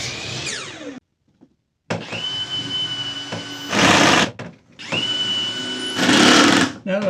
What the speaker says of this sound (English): Just going to cut a couple of pieces of plywood to go in beside it and screw those on.